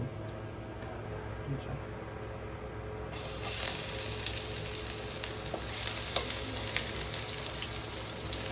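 Onion and garlic frying in hot oil in a pan for pork adobo, a loud, dense, continuous sizzle that jumps up in intensity partway through and keeps crackling close by.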